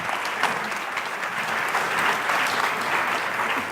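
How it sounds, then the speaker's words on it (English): Audience at a question-and-answer session applauding steadily, a dense, sustained wash of clapping at even loudness from start to finish with no speech over it. "Je vous propose encore d'applaudir."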